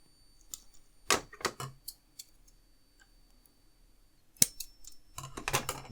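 Scissors snip through EL wire at a workbench while a DeLorean flux band power coil is being built, giving a few sharp, close clicks in short clusters with quiet gaps between them and no talk.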